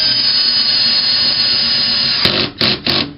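A power drill drives a screw into a wall anchor while a closet kit is installed. Its loud, steady whine runs for about two seconds, then breaks into three short bursts as the screw is eased in.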